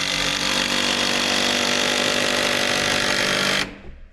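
A power tool drives a 10-inch timber lock screw down into a 4x6 rafter of an A-frame cabin roof, a loud, steady grinding whir for several seconds that stops abruptly near the end.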